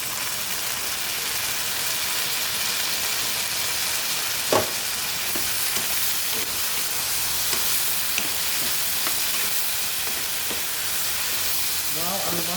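Señorita Sardines sizzle steadily in a hot pan with okra, a dense continuous crackle with occasional stirring knocks and clinks, no voices.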